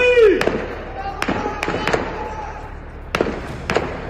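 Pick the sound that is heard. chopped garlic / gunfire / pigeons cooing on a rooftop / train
gunfire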